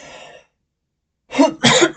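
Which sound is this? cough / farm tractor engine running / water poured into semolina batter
cough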